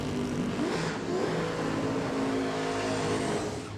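A drag racing car's engine revs steadily during a burnout at a Sydney drag strip shootout, a dense, roaring drone with some rising tones, heard from a distance and fairly faint, with no talking.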